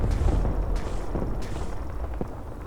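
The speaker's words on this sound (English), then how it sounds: "I'm sure you can tell from all the gunfire and explosions that are going on way out there" In Fallout 4 with the War of the Commonwealth mod, distant gunfire and explosions rumble across the Glowing Sea as a continuous low roar broken by muffled booms and pops.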